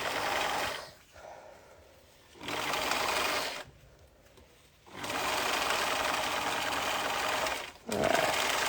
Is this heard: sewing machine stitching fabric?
yes